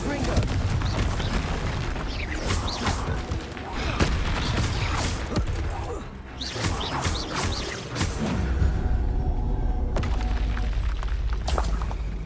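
Confringo blasting spells exploding in the wizarding game Hogwarts Legacy amid other spellcasting, a steady barrage of loud booms and crackling blasts repeating through a noisy, rumbling stretch.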